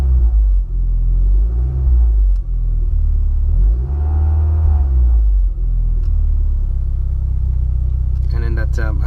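A car engine rumbles steadily and swells in a rev as the driver accelerates, the low drone rising and falling over several seconds with the near, loud idle continuing underneath.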